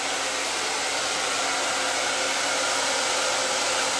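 A handheld hair dryer blowing on short hair during a pixie haircut, a steady, close, even whoosh that runs unchanged throughout with no talking.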